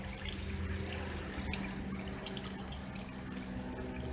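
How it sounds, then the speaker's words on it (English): Water splashes steadily from a hand pump water fountain outdoors, a continuous close wash of splashing and dripping with no break. "Can't tell whether all that splash around there is happening"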